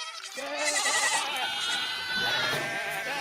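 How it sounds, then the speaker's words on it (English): A baby goat in a radio ad gives one long, wavering, high bleat close up, filling most of the moment alone. "Like a cute little baby goat."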